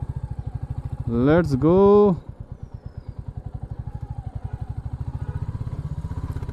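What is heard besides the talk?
Royal Enfield Bullet 350 motorcycle at a service centre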